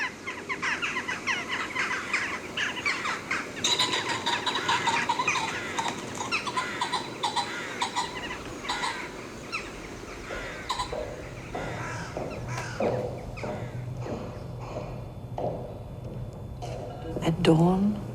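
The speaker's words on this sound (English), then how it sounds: "the approaching sounds of rooks, jackdaws and pheasants, which were returning to their roost sites in the trees and bushes along the path" Rooks, jackdaws and pheasants returning to roost in trees and bushes along a path, a busy chorus of harsh caws and chatter with a pheasant call near the end, while a narrator talks over it throughout.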